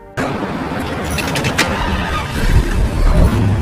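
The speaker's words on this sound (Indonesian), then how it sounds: "sehingga mobil itu akhirnya menyala kembali" A car engine cranks and catches abruptly after a breakdown, then runs with rising revs and a rough, loud rumble, with some metallic rattles at the start and no talk.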